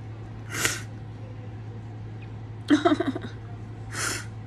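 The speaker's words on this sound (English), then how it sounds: "I'm done sneezing." Sneezing by one person indoors, three short bursts spaced a second or so apart, a middle one breaking into a quick cluster of sharp fragments, over a steady low hum.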